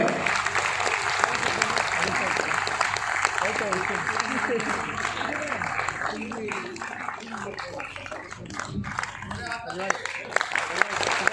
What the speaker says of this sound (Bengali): একটা জোরে হাততালি হবে সবাই মিলে